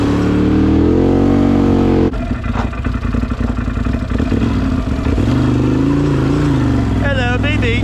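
A Can-Am Outlander 840 ATV with freshly serviced clutches revs hard nearby, its engine pitch climbing and falling in loud surges with clattering, and a person is heard over it.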